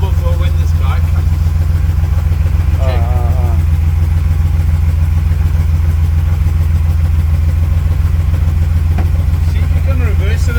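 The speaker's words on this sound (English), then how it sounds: "it's running on 5 cylinders again" A 1938 SS Jaguar 3½-litre drophead engine runs steadily on five cylinders, giving a loud, continuous low rumble with a slightly uneven beat throughout, while people talk briefly over it.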